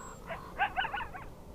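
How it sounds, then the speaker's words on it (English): A short, faint series of high, yipping barks from a coyote in the distance, over a soft outdoor background hiss. "Yep, that's a coyote barking."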